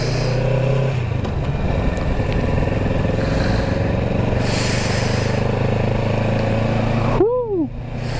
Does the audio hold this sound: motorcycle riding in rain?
yes